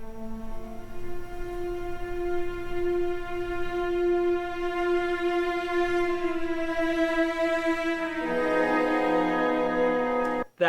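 An orchestra performs the opening of Wagner's Tristan und Isolde, soft sustained orchestral tones holding long notes that swell into the famous Tristan chord near the end, smooth and unbroken throughout.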